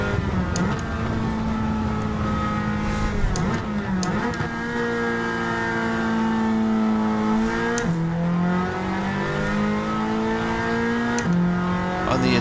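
A GTCC touring race car's engine howls under sustained throttle at a circuit in Alsace, France, its steady high pitch rising and dipping through gear changes and lifts, loud and close throughout.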